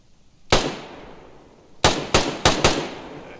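Gunshots in the video game Tisy Koth: one sharp crack, a pause, then four rapid loud cracks in quick succession, each ringing out briefly.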